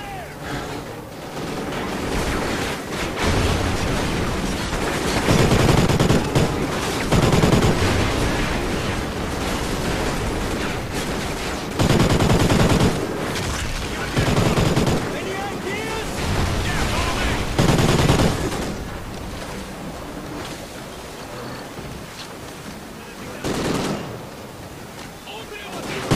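Call of Duty: Ghosts gunfire comes in repeated loud bursts of rapid shots and blasts in a chaotic firefight, with shouted game dialogue in between.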